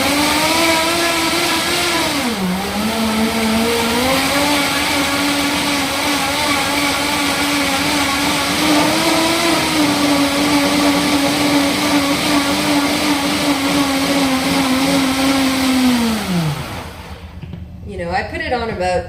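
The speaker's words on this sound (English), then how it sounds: "so now let's Vitamix this baby. I usually kind of blitz it for a little while because you need to break up the lime leaf" A Vitamix blender blitzes Thai curry paste with lime leaf, a loud steady whirring motor that dips briefly and then winds down at the end, with some talking faintly underneath.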